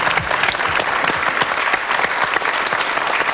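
Sustained applause from a TV studio audience fills the space, many hands clapping in a thick, continuous roar that holds level from start to finish.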